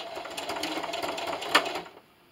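Sewing machine stitching a keyboard and mouse wrist rest, a steady close-up rattle of rapid stitches that runs for about two seconds and then stops.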